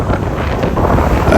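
Wind buffeting the microphone on a beach at St. Maarten beside an airport runway, producing loud, constant low-frequency roar and rumble throughout the short clip.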